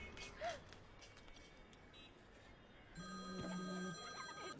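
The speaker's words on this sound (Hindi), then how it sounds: "फिर से फोन कर रहा है।" A telephone rings with a steady electronic tone late in the scene, layered over a busy background with a brief whoop-like sound earlier; no one talks over the ring.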